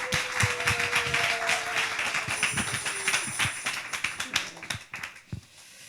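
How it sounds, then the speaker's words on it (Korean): A church congregation claps in welcome for a pastor stepping up to preach, with a scattered, uneven patter of hand claps close by that thins out toward the end, over a faint tonal background. "우리 환영의 박수로 한번 목사님 환영하겠습니다"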